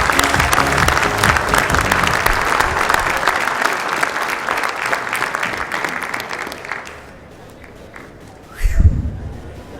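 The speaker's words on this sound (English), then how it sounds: "Let's give everyone another round of applause." A crowd applauds at the 2014 WorldSkills Australia National Competition opening ceremony as competitors walk through a banner, sustained clapping that fades out near the end before a brief burst of noise.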